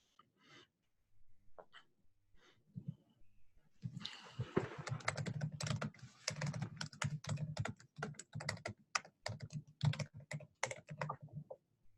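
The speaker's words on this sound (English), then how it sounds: "I'm just typing a message to broadcast to all of the rooms" Someone types on a computer keyboard nearby, a few scattered key taps at first, then a long run of rapid, irregular clicks that thins out toward the end, quiet and with no talking.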